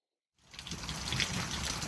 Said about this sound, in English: A few hours later, we got the rain.